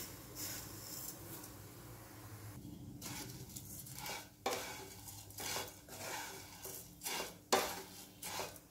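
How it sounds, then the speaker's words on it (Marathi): Wheat vermicelli roasting in half a ladle of oil in a pan, with repeated scraping and clinking of a spatula against the pan. Stirring strokes come in irregular bursts over a steady low background. "त्या भाजून घ्यायच्या आहेत"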